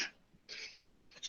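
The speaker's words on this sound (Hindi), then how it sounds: "क्लास के साथ ही खांसी आती है।" A person's sudden cough or throat clearing, repeated in three short bursts spread across a second and a half, faint and close with no speech.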